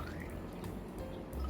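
A small measure of water pours into a lab container while V8 juice agar is prepared for fungus cultivation. It is a soft, steady trickle, faint and close, with no talk over it.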